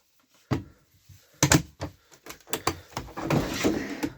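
A pull-out storage drawer in the kitchen of a Laika Ecovip 4009 DS motorhome slides open, giving a sharp clunk followed by a series of rattling knocks and a sliding rumble, close and fairly loud.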